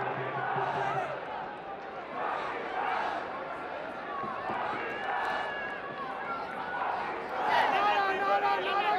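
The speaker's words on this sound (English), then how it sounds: "It's not exactly full, but they're making a lot of noise." A boisterous crowd at a Pakistan Super League cricket match between Lahore Qalandars and Islamabad United. The loud, sustained stadium cheering and chanting swells and continues under a commentator's voice.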